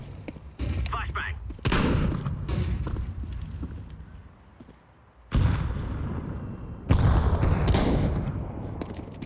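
A flashbang grenade thrown in a video game, heard as several loud booming blasts that tail off between bursts, with voices talking.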